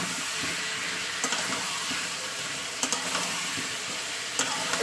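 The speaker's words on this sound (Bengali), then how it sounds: "জাস্ট তেলে ফ্রাই করে নিচ্ছি সব জিনিসটা" Potatoes and mixed vegetables fry in oil in a home kitchen for several minutes, giving a continuous close sizzle. Occasional sharp clinks of a stirring spoon against the pan cut through it.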